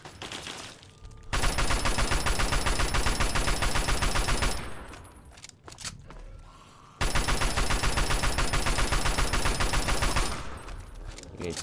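Sustained bursts of rapid automatic assault rifle fire aimed at ghouls in Fallout 3, two long loud volleys separated by a brief pause with scattered shots.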